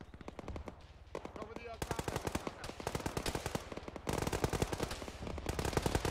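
Suppressive automatic gunfire in a military video game, rapid continuous bursts of rifle and machine gun fire, fairly distant and sustained, with voices speaking faintly underneath.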